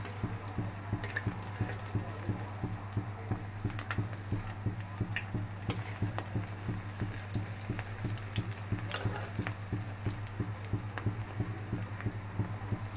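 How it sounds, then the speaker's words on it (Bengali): Snacks fry in oil until reddish brown, a steady bubbling sizzle with a low constant hum and light stirring clinks throughout. "এরকম করে লাল লাল করে ভাজবেন, এরকম লাল হবে, ভেজে"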